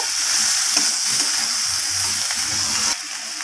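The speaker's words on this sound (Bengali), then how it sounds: "তো আবারও সব কিছু একসাথে ভালো করে কষিয়ে নেব।" Hilsa fish head frying with mixed vegetables and ginger and garlic paste, giving a loud, close, continuous hissing sizzle with faint stirring scrapes underneath, dropping slightly in level near the end.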